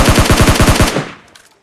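A rapid burst of about eight automatic gunshots rings out in a video game battle, loud and evenly spaced, then trails off into a fading echo.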